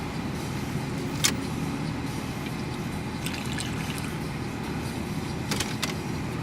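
Warmed-up Subaru Impreza 2.5RS engine idling with a low steady rumble heard from inside the car, broken by a few small clicks and rustles, no speech.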